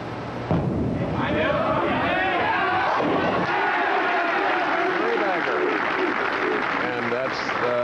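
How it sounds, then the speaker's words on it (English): A bowling arena crowd at a 1987 PBA tournament chants loudly for Norm Duke, rhythmic massed voices rising and swelling close by, with shouts and cheers mixed into the steady roar. "that's the crowd chanting for Norm Duke"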